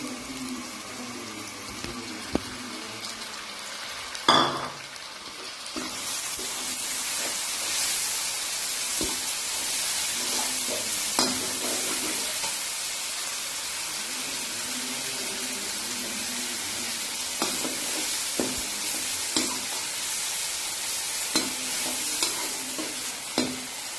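Tomatoes are stirred into a chicken sausage masala frying in a pan, with a loud, continuous sizzle and repeated scraping stirs over about twenty seconds, plus a brief splash of running water near the start.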